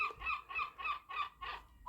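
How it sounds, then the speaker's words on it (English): A seagull in a garden calls again and again, about six harsh, even squawks in a steady rhythm, fairly close and clear over quiet outdoor background. "Bloody seagull."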